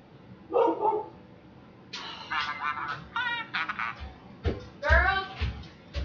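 Several dogs bark in a home, with sharp, repeated barks and yips in bursts, fairly close and loud, between quieter stretches.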